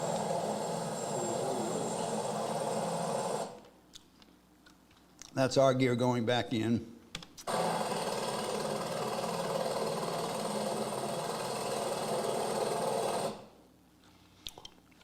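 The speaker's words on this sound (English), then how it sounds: "here comes our chopper" A helicopter sets down with its engine left running, giving a steady droning whine that cuts out briefly in places, with someone talking in between.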